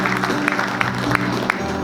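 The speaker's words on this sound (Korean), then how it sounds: "저희 명예회장님 큰 박수로 환영해 주실까요" An indoor audience at a textile and fashion industry New Year's reception applauds as a guest is welcomed, with steady, dense clapping from a crowd throughout.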